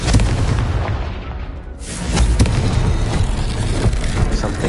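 A fire spell explosion from the video game Hogwarts Legacy, with a loud booming blast, a brief dip, then a rumbling, crackling burn that continues steadily to the end.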